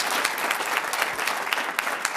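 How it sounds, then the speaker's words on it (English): An audience claps for a panel at a civic discussion in Seattle, a full, continuous round of many hands with sharp individual claps popping out of the steady roar. "Let's give them all a big round of applause, shall we?"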